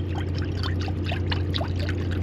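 Liquid pours into a cooking pot in a steady, close, gurgling stream with small splashes, set against a constant low hum and no voices.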